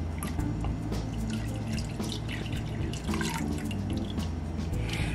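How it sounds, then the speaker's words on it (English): Rum and red label wine pour and drip into a homemade sorrel drink, a close splashing trickle that keeps running for several seconds with a low background hum. "we're gonna pour it into the drink to really see"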